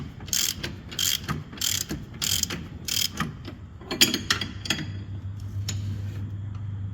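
Ratchet wrench tightening a 24 millimeter nut on a heim-style tie rod, bursts of rapid metallic clicking in a regular rhythm, close by, fading into a low hum near the end.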